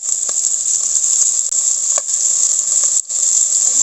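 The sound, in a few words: octopus frying, sizzling in a pan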